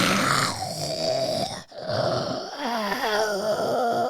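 A voice mimics an uncle's loud snoring with close, drawn-out rasping groans and snorts in a rough repeating rhythm, broken by one brief pause.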